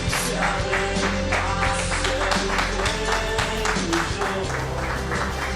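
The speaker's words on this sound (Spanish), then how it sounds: "lluvia de aplausos aquí en el estudio" Studio audience applause fills a Spanish television panel show set, a dense, steady wash of clapping that stays loud throughout with music still ringing underneath.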